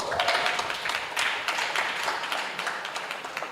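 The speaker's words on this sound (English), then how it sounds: "A round of applause for Mrs. Zetma Tuse" Meeting audience at an annual general meeting gives a short burst of scattered clapping, moderately loud and uneven, lasting a few seconds.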